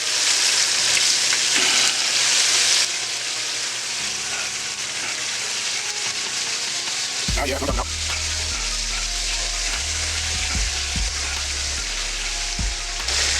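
Fish pieces frying in a pan for tacos, a steady broadband sizzle with a few louder spatters and thumps partway through as pieces are moved; no talking.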